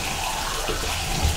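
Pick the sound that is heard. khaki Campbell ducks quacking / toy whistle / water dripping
water dripping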